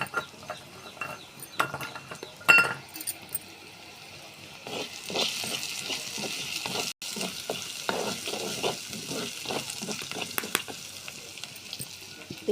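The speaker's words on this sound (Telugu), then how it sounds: "ఇది పోపులోనే మంచిగా వేగాలి." Washed chana dal frying in a hot oil tempering while being stirred: a soft, continuous sizzle under repeated close scraping and clicking strokes of a spoon against the pan, with one sharp knock early on.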